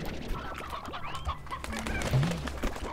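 A wild hen in a video game gives soft, scattered clucks over a busy game soundscape, moderately close and fairly quiet.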